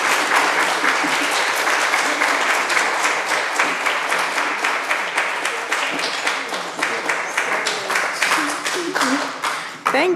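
An audience at a book festival talk at the Athenaeum applauds author Samantha Hunt, a dense, steady burst of many hands clapping that runs throughout and thins slightly toward the end.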